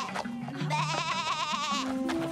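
A goat about to give birth, in an animated cartoon, lets out a long, wavering bleat that rises, holds and trembles before fading.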